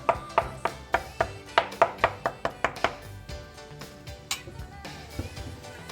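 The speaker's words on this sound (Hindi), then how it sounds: "इस तरीके से कांटे से हम इसमें हल्के हल्के से कट मार देंगे" A fork taps quick scoring cuts into rolled puri paratha dough, a run of about a dozen sharp, evenly paced clicks against the surface, then a few sparser taps and rustles, close and clear, with no talk.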